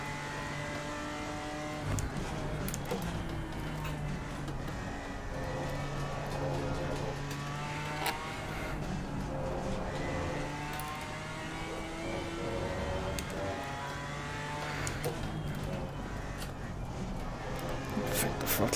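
BMW M4 GT4 race car at Laguna Seca, its engine droning steadily and close with harmonic pitch sweeping up and down through gear changes, someone talking over it throughout.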